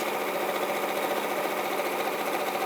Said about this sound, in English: So again, longest stitch, And just sew all the way down that raw edge.